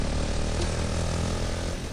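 Steady drone of a propeller plane engine in the Fortnite video game, a continuous broadband hum with a low throbbing tone, loud and constant throughout with no speech.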